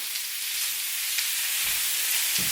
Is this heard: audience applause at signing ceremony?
no